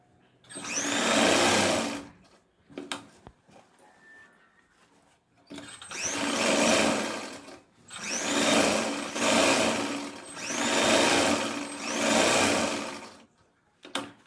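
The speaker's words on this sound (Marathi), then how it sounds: "अशाच प्रकारे दुसरा पण हात शिवून घ्यावा." A sewing machine stitching a blouse sleeve, running in loud bursts of a couple of seconds each separated by short pauses with faint handling clicks, close and without speech.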